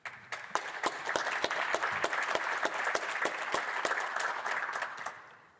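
Applause fills the House of Commons chamber, a dense round of many hands clapping at a steady rate for several seconds, moderately distant, and it fades out at the end.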